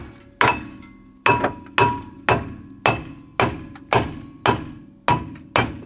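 Ten sharp metallic hammer blows strike a seized, rusty brake drum on a Honda Del Sol project car, landing at a steady pace of roughly one every half second, each ringing briefly before the next.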